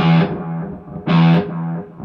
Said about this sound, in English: the only thing as far as effects I have is just the delay pedal in the effects loop